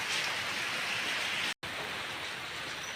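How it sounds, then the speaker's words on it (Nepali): Heavy rain falling steadily in a village during monsoon weather, a dense, even hiss of downpour that continues throughout with only a momentary cut in the middle. "पानी चाहिँ अलिकति ठुलो परेको छ।"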